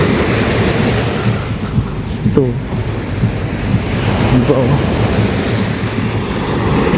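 Ocean waves washing onto the beach at Boracay, a loud continuous roar of surf with heavy wind rumble against the microphone, as a voice speaks briefly over it.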